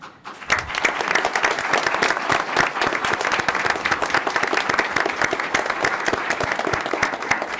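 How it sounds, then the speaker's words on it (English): An audience at a school board meeting gives counselors a round of applause, dense and steady clapping that starts suddenly and carries on evenly throughout. "each of you deserves an entire round of applause"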